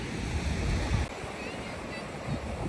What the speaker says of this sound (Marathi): सो हा आहे सागरेश्वर बीच आणि माणसं पण फार कमी लोक आहेत